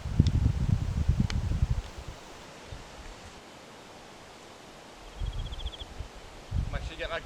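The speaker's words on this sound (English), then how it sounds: "watching the trees sway in the soft wind" Trees swaying in a soft wind beside a river, a steady broadband rustle and wash throughout, louder bursts at the start and near the end, with faint chirps high above.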